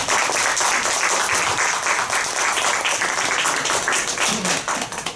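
A studio audience at a fireside chat claps to welcome a guest, a dense, loud wash of applause that holds steady and then begins to thin near the end.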